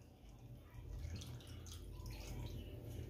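Half a pint of cold water poured into a pan of beef curry, a soft continuous splashing and trickling, faint and steady, with no talk over it.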